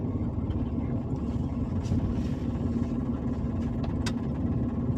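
A car engine idles steadily and close by as the clutch is slowly let out to reverse, a constant low rumble with no talk.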